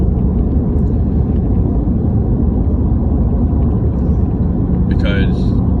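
A steady, loud, low engine rumble and road noise fill the inside of a moving car throughout. A brief high chirp sounds near the end.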